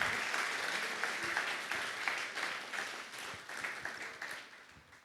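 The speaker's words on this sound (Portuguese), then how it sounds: "Vamos aplaudir o Senhor pela vida dela." Church congregation applauding during a Portuguese-language sermon, dense continuous clapping from many people that fills the space evenly and slowly tapers near the end.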